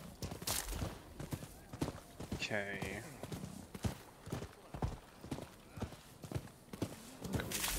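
Horse hooves clip-clop at a steady walking pace in the Rise of the Ronin video game, close and rhythmic, with a short whinny partway through and a brief spoken word over the hoofbeats.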